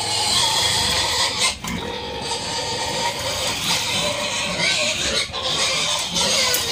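Farm pigs grunt and oink continuously at close range in a livestock pen, with busy rustling and occasional squeals in the background.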